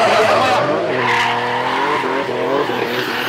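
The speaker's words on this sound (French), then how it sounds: "j'entends le crissement des pneus" Loud, sustained tire screeching with a car engine roaring beneath it, wavering in pitch as the vehicle slides at a drift festival.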